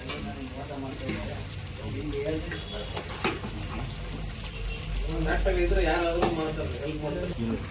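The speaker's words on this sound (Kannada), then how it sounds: "ಶುಂಠಿ ಬೆಳ್ಳುಳ್ಳಿ ಪೇಸ್ಟ್ ಹಾಕೊಳ್ತಾ ಇದ್ದೀವಿ ಅದನ್ನ ನೀಟಾಗಿ ಫ್ರೈ ಮಾಡ್ಕೋಬೇಕು ಎಣ್ಣೆಲೆ" Steady oily sizzling and spattering as ginger garlic paste fries in cooking oil in a hot pan, with occasional scraping stirs and a person talking over the frying.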